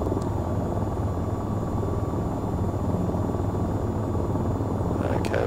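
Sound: AH-94 helicopter autorotating in video game VTOL VR

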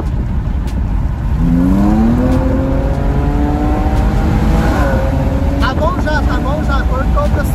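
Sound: Jaguar F-Pace car engine accelerating

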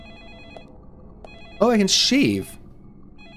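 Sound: phone ringing in video game Deadly Premonition

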